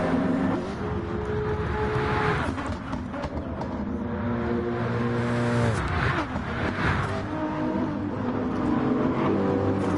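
Race car engines of an M6 and a Nismo in a racing video game on PS4, a steady loud drone of engines with rising and falling pitch sweeps as the cars accelerate and shift, continuous throughout with no voices.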